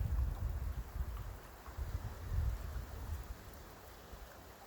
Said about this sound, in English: So, breeze in the tops of pine trees and cedar trees.